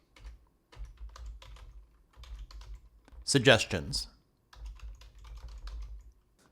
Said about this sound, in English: Then hit Enter on your keyboard.